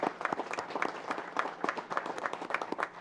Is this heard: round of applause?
yes